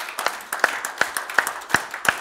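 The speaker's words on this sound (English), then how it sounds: "Give him a hand clap this morning." A church congregation claps its hands in an even, steady rhythm, about six sharp claps spaced evenly, moderately close, with no talking over them.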